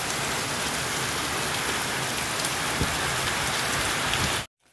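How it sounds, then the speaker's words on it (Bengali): Heavy downpour of rain, a dense, steady hiss of drops hammering surfaces, loud and unbroken until it cuts off abruptly at the end. "প্রচণ্ড জোরে বৃষ্টি হচ্ছে।"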